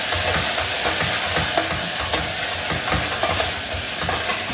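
Onions and capsicum fry in a little oil in a separate small pan, a continuous close sizzle broken by regular scraping and stirring knocks, with no one talking.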